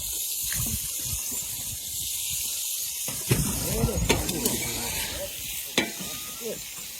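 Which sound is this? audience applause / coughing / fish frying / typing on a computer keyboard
fish frying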